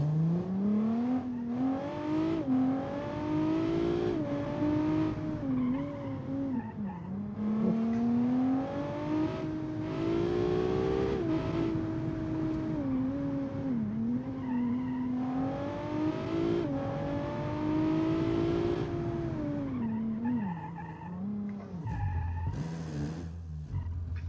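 A car in a driving video game revs hard through a series of corners, its engine note climbing and falling steadily over about twenty-four seconds with faint tire squeal, loud and continuous with no talk.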